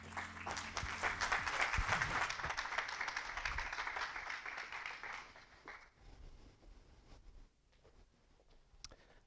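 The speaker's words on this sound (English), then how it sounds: "A big round of applause, please." An auditorium audience at a medical cannabis conference in Lisbon applauds, dense clapping that is strongest for the first few seconds and then thins to scattered, fainter claps before fading out.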